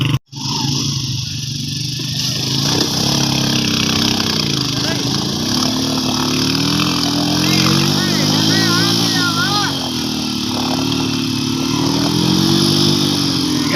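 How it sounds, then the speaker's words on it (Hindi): A motorcycle labors over a rough road on the Deosai plateau in Gilgit-Baltistan, its engine droning steadily close by with rising and falling revs, while someone talks over it. "ये हालत है दिवसाई में मोटरसाइकिल लेके"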